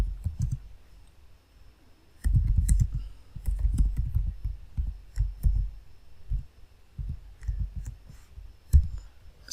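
A computer keyboard is typed on in uneven bursts of soft, muffled clicks, close and fairly loud, with short pauses between runs of keystrokes and no talking.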